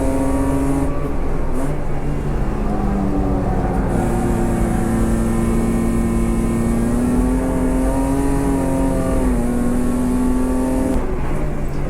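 A Superberline touring car races at full throttle on the Dijon circuit, its engine note heard from on board as a loud, continuous drone that climbs and dips slightly through gear changes, with no talking.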